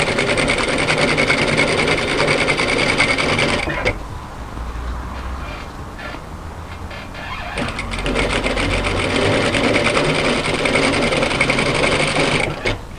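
A domestic sewing machine, fitted with a ballpoint needle, stitches a sweater neckband with a loud, steady mechanical whir. The motor pauses briefly in the middle, leaving a quieter stretch, then runs on again at full speed.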